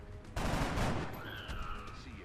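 A soldier's weapon fires in X-Com: Enemy Unknown, a loud burst of gunfire that starts abruptly and rolls on as a dense blast before trailing off into quieter game sounds.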